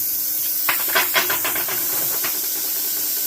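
A Topshak TS-CUT40 40A plasma cutter hisses steadily after slicing through hardened steel, with a run of short crackling bursts partway through before the hiss settles again.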